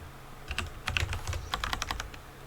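Rapid clicking of computer keys as someone types code, a steady run of close, crisp keystrokes with no talking.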